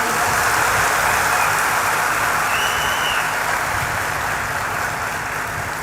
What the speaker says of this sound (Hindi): एक बार ताली बजाओ झूम के।